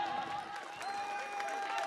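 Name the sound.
audience applause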